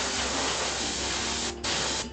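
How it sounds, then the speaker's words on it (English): An airbrush sprays primer onto miniatures as a loud, close, continuous hiss. A brief break comes near the end before the spray resumes. "I'm going to do a Zenithal spray with just my airbrush real quick"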